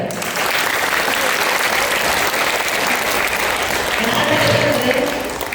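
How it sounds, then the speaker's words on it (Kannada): Loud, steady applause from a crowd at a government school program, sustained dense clapping for several seconds that swells slightly near the end. "ಜೋರು ಚಪ್ಪಾಳೆ."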